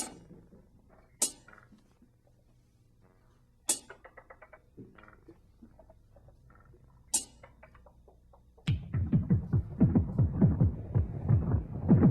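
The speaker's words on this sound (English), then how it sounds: "Now if we adjust the delay time using randomness, this is what it sounds like." Echo from a Moog CP-251 with randomly modulated delay time: sparse sharp clicks and short tonal blips repeat at shifting intervals, then give way to a dense, wavering smear of overlapping echoes in the final few seconds.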